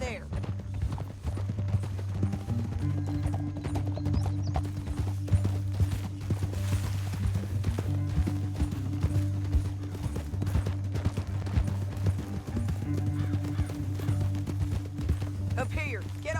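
Horses galloping in Red Dead Redemption 2, a continuous patter of hooves over a low droning musical score, with speech and occasional distant gunfire mixed in across the stretch.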